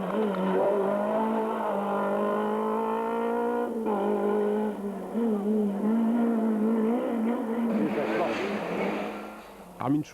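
A rally car at full throttle on a Monte Carlo Rally special stage in 1994, engine note rising and falling through gear changes, loud and close, with tyre noise near the end and a commentator talking over it.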